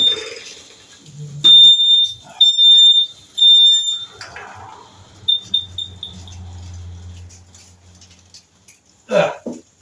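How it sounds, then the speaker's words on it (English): A smoke alarm sounds in several loud, piercing electronic beeps, set off by a badly smoking 1975 Triumph Trident T160 motorcycle engine, then stops, leaving faint rumbling and small knocks before a short noise at the end. "there goes the smoke alarm, of course"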